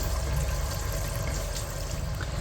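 Water runs steadily into a water heater through a partly closed valve, a continuous low rushing flow with a hiss, fairly close and unbroken.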